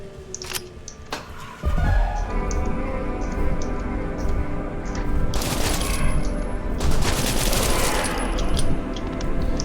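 Shotgun gunfire in a horror video game with ghosts, aliens and animatronics: dense, loud blasts and a rattling burst of shots that carry on alone over about ten seconds, with heavy bursts near the middle and the end.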